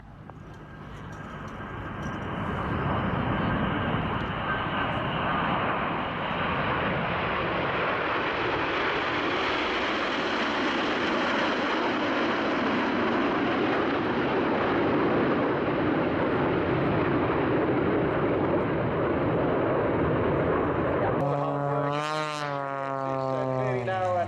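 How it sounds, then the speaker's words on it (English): A muscle biplane flies at an air show, its engine a loud, sustained drone that builds, holds steady for about twenty seconds and then shifts sharply in pitch as the aircraft passes close by. "This is Richard Goodwin in the muscle biplane."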